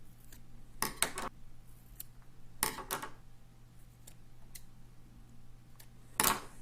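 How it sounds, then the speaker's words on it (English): Scissors snip the skirt tabs on an EWG fishing hook, a few sharp close clicks in small clusters separated by quiet pauses, with a faint steady hum underneath. "So what we're going to do next is cut off these tabs."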